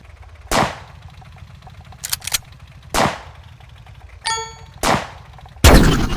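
Tank cannon shots in a tank war video game, several loud sharp blasts spaced a second or two apart, mixed with short metallic pings, quick rattling bursts and a final crashing impact.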